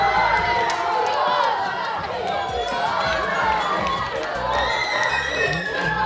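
Fans at a primary school quiz show cheer and shout loudly, a roaring crowd of excited voices and children's yells filling the room with steady stomping and movement underneath.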